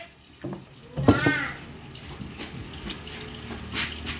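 Water running from a tap into a basin, a steady splashing hiss, with a person calling out in Filipino over it and some background clatter.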